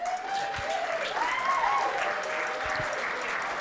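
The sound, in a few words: audience applause at a sales event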